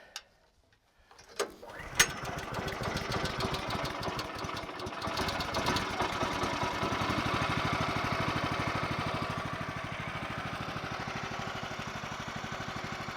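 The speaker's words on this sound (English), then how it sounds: "We're going to start the engine." A HM130 portable sawmill engine cranks with a few sharp knocks, then catches and settles into a steady, close mechanical idle with a fast rhythmic chatter that holds for the rest of the stretch, no talking over it.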